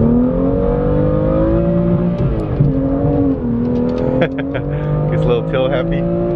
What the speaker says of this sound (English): Seems like you gotta kind of rev it up higher when the turbo kicks.